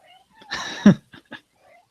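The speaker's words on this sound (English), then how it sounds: "you kitty cat" A cat gives a single loud, close meow with a rising-falling yowl, followed by a couple of small chirps, with no talk.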